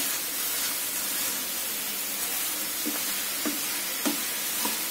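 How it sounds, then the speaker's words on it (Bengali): Food is stirred in a sizzling pan, a steady hiss of frying broken by several soft, evenly spaced scrapes of the spoon toward the end, with no voices. "আমি একটু নাড়াচাড়া করে নিচ্ছি"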